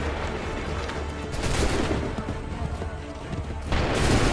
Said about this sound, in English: Shoot! Make ready! Fire now!